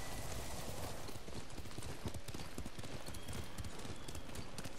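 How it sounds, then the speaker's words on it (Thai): Dense, continuous clip-clop of horse hooves while riding in the video game Ghost of Tsushima, steady and galloping under a busy game soundscape, with faint talk in the background. "ขี่ม้าขึ้นเหนือไป"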